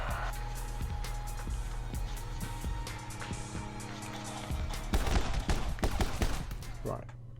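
Rapid gunfire from the action shooter My Friend Pedro, played on Nintendo Switch, crackling in dense bursts over a steady game soundtrack, growing busier and louder toward the end as the player's voice talks over it.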